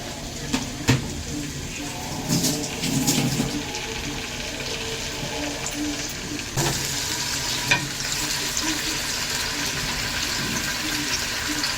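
Garlic sizzling and frying in a pan over lowered heat, a steady crackling hiss with occasional stirring clatter and scraping, fairly close and continuous throughout.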